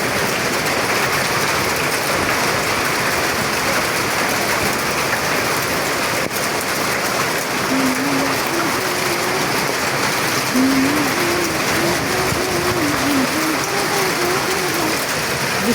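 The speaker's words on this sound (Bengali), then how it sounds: "বৃষ্টি বাড়তেছে, আমি অলরেডি ভিজে যেতেছি বারান্দায়।" Heavy rain drums steadily on a surface close by on a veranda at night, with the sound of hail reported during the storm. A faint voice hums or talks under the constant wash in the second half.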